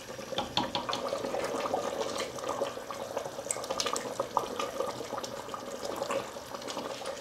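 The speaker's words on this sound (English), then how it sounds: "Now I'm going to turn the gas back on, and with an open lid I am going to reduce the sauce" Beef curry sauce simmers and reduces in an open pressure cooker over a gas flame, giving a steady bubbling hiss dotted with small pops and crackles that run continuously without any talking.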